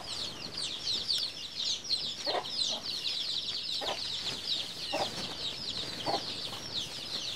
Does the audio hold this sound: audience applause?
no